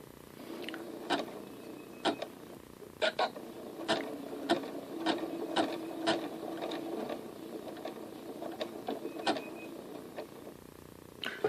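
A Janome Skyline S7 sewing machine stitching on a button, a rapid mechanical whirring hum broken by evenly spaced sharp clacks as the needle swings back and forth, close and steady for several seconds.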